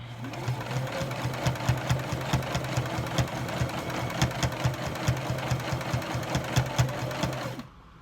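A sewing machine runs steadily, its needle stitching in a fast, even mechanical rhythm for several seconds before stopping.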